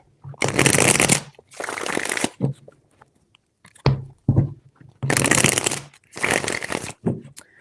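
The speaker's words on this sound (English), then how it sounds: "3 shuffles." Tarot cards are riffle-shuffled several times in close, crisp bursts, each followed by a few soft taps and pauses.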